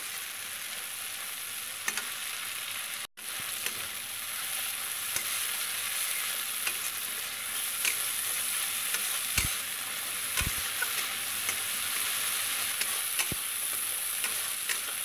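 Poppy seed and mustard paste frying in a pan for a Bengali fish curry, a steady crackling sizzle with intermittent spatula stirs and a few sharp scrapes against the pan, with no talking.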